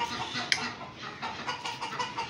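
Australian hens and a rooster, including a Lohmann breed, clucking in a coop, a cluster of soft overlapping clucks and short calls from several birds nearby at moderate volume.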